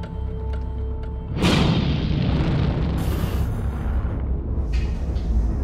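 A test blast goes off at an explosion-venting research facility, a sudden loud boom that gives way to a long, roaring, rumbling decay filling the rest of the moment.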